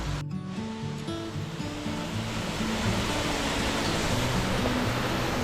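Steady broadband roar of Lower Archer Falls in springtime, a double waterfall in southern Washington, rushing continuously at close range with faint low tonal sounds beneath.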